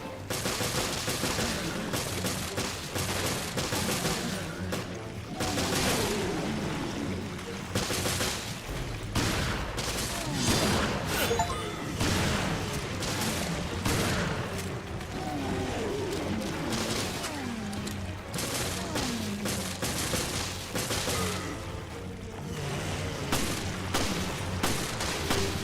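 Rapid bursts of gunfire from the Resident Evil game, set aboard the ship Queen Zenobia, crackle almost without pause, dense and loud over a busy soundtrack.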